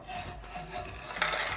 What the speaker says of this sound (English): Now we will put our nuts into our bowl.